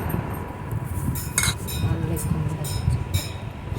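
A metal spoon clinks against a glass or vessel while rose syrup is added to milk, several light sharp taps scattered over low background noise, with a voice talking throughout.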